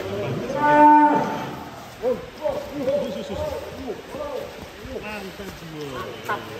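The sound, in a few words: cattle mooing in a cattle shed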